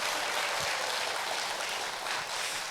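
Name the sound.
audience applause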